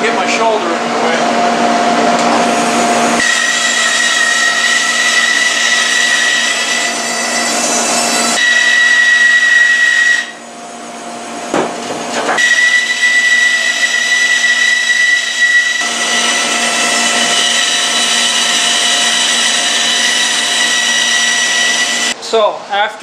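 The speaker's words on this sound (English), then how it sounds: "after we finish with the bandsaw, pretty much get rid of the waste portion" A bandsaw cuts through red oak, its loud steady motor whine with a high blade tone running continuously, briefly easing around the middle before the cut resumes at full level.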